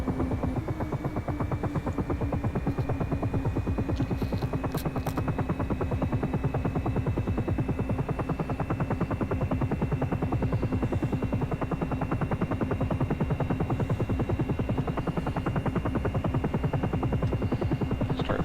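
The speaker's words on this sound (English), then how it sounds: "we watch the blades run up, and you can see they spool up smoothly" Simulated helicopter in the X-Plane 11 flight simulator as its rotor blades spool up, a steady rapid rhythmic chopping over a low engine drone, with a rising turbine whine.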